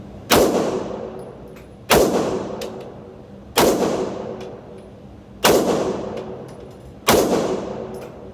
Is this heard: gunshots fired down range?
yes